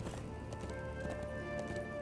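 A horse in Darksiders 2 gallops, its hooves clip-clopping in a quick, even rhythm under music and game ambience at a moderate level.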